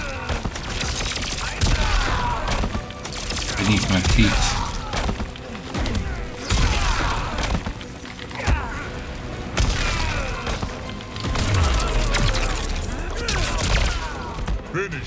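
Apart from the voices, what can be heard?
explosions in a video game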